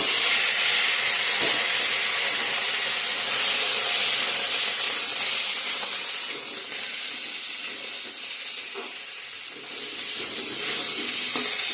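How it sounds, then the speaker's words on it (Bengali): Garlic, onion, dried red chili, panch phoron and ginger tempering in hot oil give a steady, close, loud sizzle with faint pops and stirring sounds running throughout. "এখানে আমি ফোড়ন দিয়ে দিচ্ছি রসুন, পেঁয়াজ, শুকনো লঙ্কা আর হচ্ছে পাঁচফোড়ন, আদা।"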